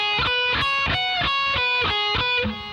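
A distorted electric guitar plays a quick riff from a song, about twelve evenly spaced notes, bright, sustained and close, ending with a slight fade.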